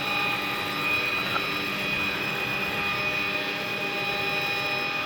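Steady turbine whine and engine drone with a high sustained tone from an MD500 helicopter taxiing, continuous and fairly close, no voices.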